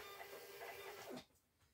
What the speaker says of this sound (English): We've had this printer for 3 years. It's a BEEPRT.